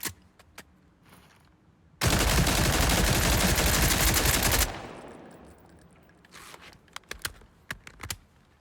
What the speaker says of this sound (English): But it does have a 3-round burst, so that is very fun to use.